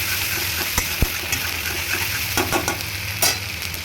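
Garlic, ginger and chili paste sizzles steadily in butter for butter chicken, with a few stirring scrapes and clinks of a spoon over the constant frying hiss.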